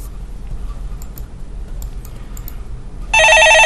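A telephone bell starts ringing abruptly near the end, loud, bright and continuous, after a stretch of quiet studio room tone during a Korean stock market broadcast.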